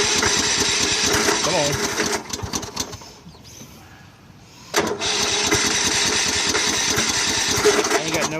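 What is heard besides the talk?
Troy-Bilt Super Bronco lawn tractor engine cold start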